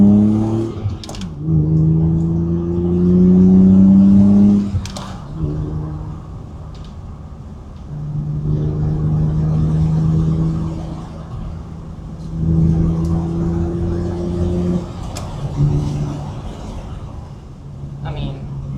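A BMW E36 engine pulls hard through repeated accelerations while driving, rising tonal drone climbing in pitch several times with brief drops between gear changes, loud and close inside the cabin.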